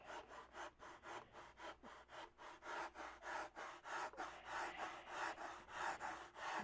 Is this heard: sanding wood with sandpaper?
yes